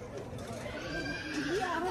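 A small horse or pony at a zoo neighs in a rising, wavering whinny over chatter from visitors nearby, loudest toward the end.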